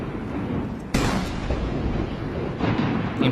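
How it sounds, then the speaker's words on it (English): Cannon salute fired at a military parade in China, a dull heavy boom at the start and a sharper report near one second, with another around two and a half seconds, over steady broadband rumble and crowd noise. "The 80 cannons,"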